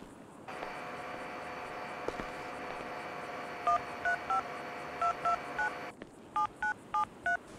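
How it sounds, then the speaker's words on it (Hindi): A phone in GTA 5 plays a steady dial tone, followed by a quick series of dialing beeps, two bursts of key tones, then a short pause and four more tones in a row. "मैं माइकल को फ़ोन करता हूँ।"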